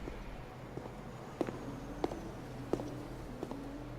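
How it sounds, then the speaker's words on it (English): Footsteps in the game Love and Deepspace: a few sparse, distinct steps spaced about half a second apart over a low ambient hum, fairly close and moderately loud, with no talking. "The sound of footsteps stops behind me"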